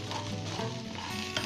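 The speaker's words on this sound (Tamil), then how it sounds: "அதனால் நம்ம இதை கொஞ்சம் வதக்குறோம்." Okra (ladies finger) sautéing in oil in a pan, a brief, dense, continuous sizzle at close range with a slight stir toward the end, no voices.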